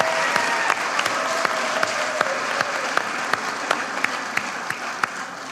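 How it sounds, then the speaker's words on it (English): Conference audience at a plenary session giving steady, sustained applause for the tech team, an even wash of many hands clapping with sharp individual claps standing out, with no talking over it. "Let's give a warm round of applause to our team,"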